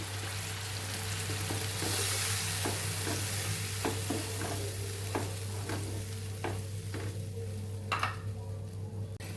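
Spiced yogurt masala thinned with water boiling in a pan for a stuffed papad curry: a steady, close bubbling hiss throughout, broken by scattered light clicks and knocks from stirring, with no voices.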